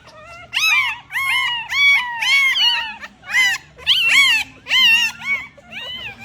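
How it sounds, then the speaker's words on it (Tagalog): Newborn puppies of a freshly whelped litter crying and squealing, a series of high, rising yelps and whines that overlap in quick bursts, close and fairly loud. "kung sino yung mga narinig yung nagsisigawan dito sa video. Dahil nga yun dito sa mga tuta"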